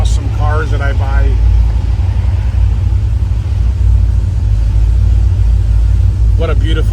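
A 1971 Chevrolet Corvette with an LS5 454 V8 cruises with a deep, steady low rumble throughout, while a voice speaks briefly at the start and again near the end.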